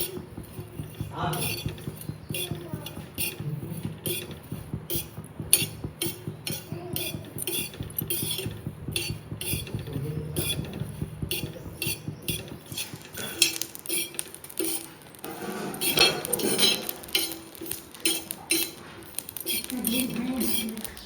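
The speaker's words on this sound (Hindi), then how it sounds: "तो सबसे पहले अब हम मसाले भून लेते हैं।" Metal utensils clink and scrape steadily against a pan as coriander, cumin and nigella seeds roast in a busy kitchen, with a voice speaking intermittently underneath.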